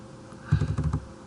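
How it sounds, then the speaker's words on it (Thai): Values being typed on a computer keyboard during CAD work, a quick run of about six soft close key taps in a row, with no talk over them. "พิมพ์ค่า s ตัวนี้เป็นค่าลบก็คือลบหกสองห้า"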